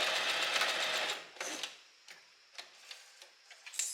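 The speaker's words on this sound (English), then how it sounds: "just make sure the needle is down and then sew this end closed" A domestic sewing machine stitches a thin dress strap end closed, first a continuous quick whirring run, then a series of separate short clicks and ticks as the needle is stepped slowly, close and quiet with no talk.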